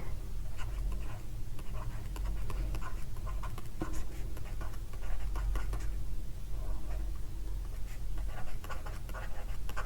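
Steady scratching of a marker or chalk writing on a board during a geography lesson, close and continuous with faint tapping strokes throughout, no speech.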